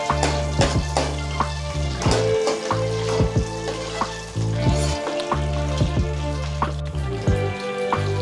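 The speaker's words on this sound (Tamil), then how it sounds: "வெந்தயம் பொரிஞ்சதுக்கு அப்புறமா வெள்ளைப்பூண்டு போட்டுக்கலாம். போட்டு நல்லா ஒரு வதக்கிக்கலாம்." Loud, continuous sizzling of garlic frying in sesame oil with fenugreek for a fish curry, with occasional stirring clatter in the pan and no talking.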